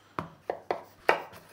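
A knife trimming and halving a vegetable on a cutting board, four crisp separate chops spaced irregularly, close and fairly quiet with nothing else going on.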